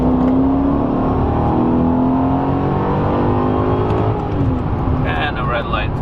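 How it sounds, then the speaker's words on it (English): A tuned Mercedes CL55 AMG on a roll from 45 mph accelerates hard from inside the cabin, its engine drone rising steadily and loud throughout, with someone talking over it. "we're gonna do a little 45 pull over here"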